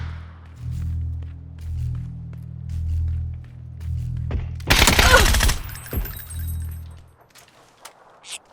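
Gunfire in the video game PUBG crackles in a brief loud burst lasting about a second, over pulsing low engine-like hum, then fades to near silence.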